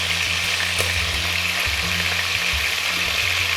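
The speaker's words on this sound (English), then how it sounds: "You definitely want to hear that sizzle when you drop the meat in." Beef browning in a hot pot for a braised green bean stew, giving a steady, loud sizzle and frying crackle with a low rumble beneath, heard alone without talk.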